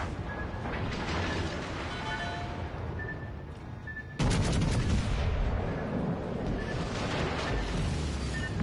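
Naval gunfire in the World of Warships Legends video game, fired at an enemy warship: mechanical clanks and ratcheting turret sounds, then a sudden loud booming salvo that sustains as a heavy rumbling roar.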